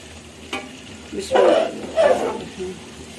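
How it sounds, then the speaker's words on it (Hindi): Water is poured into a pan of chicken curry to make gravy, setting off a couple of loud sizzling bursts with stirring. A voice can be heard faintly around the cooking. "अब मैं इसमें थोड़ा सा हल्का सा पानी लगाऊंगी इसकी ग्रेवी को बनाने के लिए"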